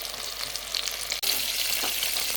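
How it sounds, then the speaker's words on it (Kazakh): Chicken wings frying in hot oil, KFC-style, give a steady, dense crackling sizzle close to the pan. It drops out for a split second before the bubbling resumes at full strength. "Қуырып аламыз."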